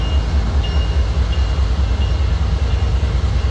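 Northbound manifest freight train creeps slowly out of Council Bluffs in the snow, giving a low, steady rumble with faint periodic clanks, heard alone at moderate distance.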